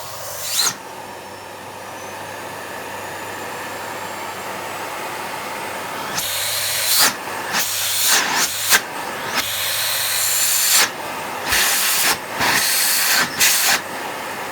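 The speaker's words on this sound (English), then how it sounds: "That is a lot of airflow, and the motor on it sounds so sweet." A SEBO Airbelt D2 Storm vacuum cleaner motor runs with a loud, steady rushing hiss of airflow, then gives a series of sharper surging bursts as the suction changes, heard up close.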